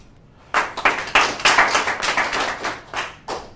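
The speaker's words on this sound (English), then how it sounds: "Round of applause." A small audience at a morning financial talk gives a short, lively round of applause, close and fairly loud, with distinct overlapping claps that fade out after about three seconds.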